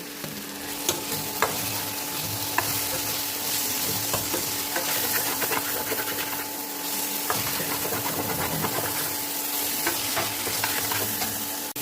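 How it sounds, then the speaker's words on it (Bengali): Onions and green chillies frying in a pan for Darjeeling-style thukpa, a steady close sizzle with scattered sharp clicks and scrapes of stirring, continuous throughout with no talking. "দিয়ে দেবো পেঁয়াজ আর লঙ্কা, দিয়ে ভালো করে ভাজবো"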